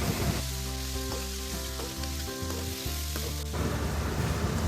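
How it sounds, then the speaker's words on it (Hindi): Chicken pieces frying in a pan for degi-style chicken korma, a continuous close sizzle with light stirring scrapes, steady and moderately loud with no talking. "गोश्त को हम अच्छे से फ्राई करेंगे जब तक इसका कलर चेंज ना हो जाए"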